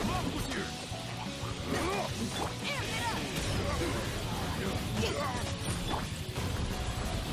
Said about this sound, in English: And now we have a lot of shatter going on.